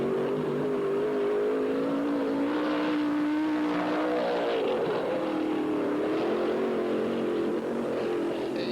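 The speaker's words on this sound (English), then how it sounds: "we're going to put you inside the cockpit of Jimmy Oskie's #1 JFK car during 2 qualifying laps" Onboard a late-1970s sprint car, Jimmy Oskie's #1 JFK car, qualifying on Ascot's half-mile dirt track: a loud, continuous engine roar that rises and falls in pitch through the turns, heard from the cockpit.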